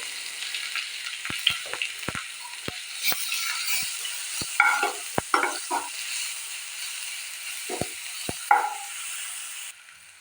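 Onion and garlic paste frying in a pan with cumin seeds, a steady soft sizzle broken by sharp clicks and scrapes of a spoon stirring, close and without talk.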